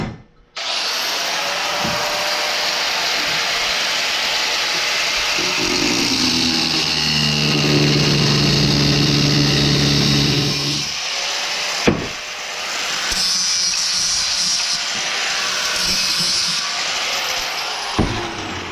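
A loud, continuous power-tool whine while metal pieces are cut for a DIY plow mount on a CF Moto Zforce, with the motor's pitch shifting under load and brief knocks as it stops and restarts.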